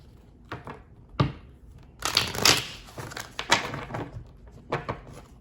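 Tarot cards are shuffled and riffled by hand in several quick bursts, crisp flapping and clattering, close and fairly quiet, with short pauses between.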